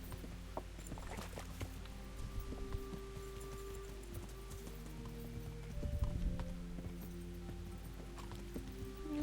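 Horse hooves clip-clopping on the ground in the video game Kingdom Come: Deliverance, an irregular run of hoof knocks at moderate distance over a layer of background ambience and faint tones.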